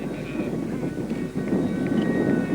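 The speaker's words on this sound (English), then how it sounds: "This model uses a Dynamax fan with an OPS 80 engine." A model English Electric Lightning jet with a Dynamax ducted fan and OPS 80 engine runs at a jet rally. It gives a steady, loud, broadband roar with a faint whine, and a brief dip midway.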